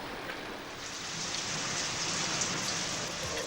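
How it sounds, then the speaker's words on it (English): Morning rain falls steadily at a 1992 Grand Prix race weekend, giving an even, dense, close patter that holds at a constant level with no voices. "The sun came up and the rain came down."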